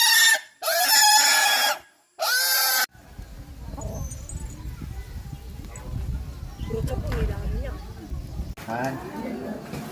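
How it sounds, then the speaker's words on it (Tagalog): Pig on a farm before slaughter, squealing in loud shrill bursts at the start, then quieter grunts and shuffling under background noise, with a voice speaking briefly. "And now, we kill the pig."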